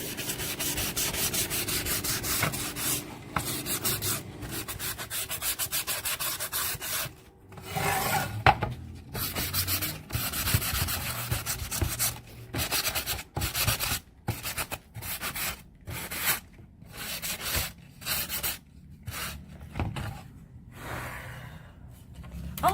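Close, rhythmic scraping of sandpaper rubbed by hand back and forth over painted wood, with strokes speeding up and stopping in short bursts, raspy and loud.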